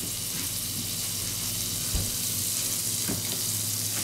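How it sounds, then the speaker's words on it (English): Half a stick of real butter sizzles in a hot skillet, a steady broadband hiss with soft crackles and a couple of low knocks, close and continuous without talk. "I'm going to take a half a stick of real butter"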